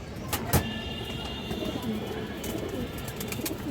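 Silver pigeons for sale at a bird market give soft, low cooing amid a busy, noisy background, with a couple of sharp clatters early on and faint murmuring voices throughout.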